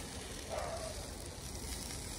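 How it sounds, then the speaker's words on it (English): Soft, steady sizzling crackles close by as meat cooks on a barbecue grill, a low continuous hiss with faint pops, no voices. "Let them pop, let them sizzle"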